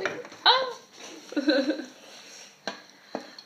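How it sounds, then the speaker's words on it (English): Cooked artichokes and tomatoes being stirred into noodles in a pot, with a few clinks and scrapes of a utensil against the pot, near and moderately loud, alongside a brief exclamation and light chuckling. "we're going to stir it in with the noodles"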